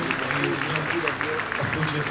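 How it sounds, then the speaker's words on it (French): Audience applause for two game-show contestants at a staged concert show, a short burst of clapping mixed with voices talking over it. "on peut les applaudir"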